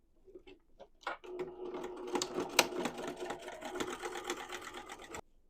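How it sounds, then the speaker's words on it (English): A sewing machine stitches fabric pieces right sides together along the long edge of a rectangle for a duffle bag, a steady fast mechanical whir running close and alone for several seconds after a few short starting taps. "I'm going to sew them right sides together along the long edge of this rectangle at about 1/4 of an inch seam allowance"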